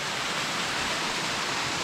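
A small waterfall in a redwood forest pours in a steady, full rushing roar that stays constant throughout, with no voices over it.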